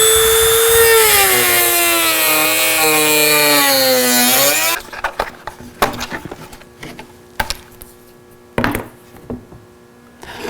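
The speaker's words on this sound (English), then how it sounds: "we'll use a cutoff tool to do it" A cutoff tool slices through the back of a plastic dash panel with a loud, harmonic whine that sags in pitch over several seconds. It then stops, leaving scattered clicks and handling knocks.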